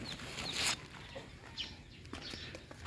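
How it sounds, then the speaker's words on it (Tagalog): Chickens on a rural farm cluck faintly and sporadically in the distance, with a low, steady outdoor background. "May manok. May pato."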